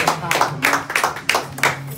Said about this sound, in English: Let's clap our hands for that message that my wife brought.